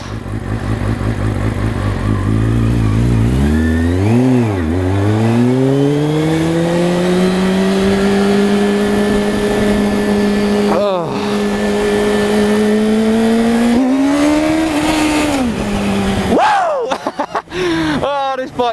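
A motorcycle engine revs and shifts on a mild evening ride, loud and close, its pitch climbing and falling through the gears before it settles into a steady high drone and then changes again with clattering near the end.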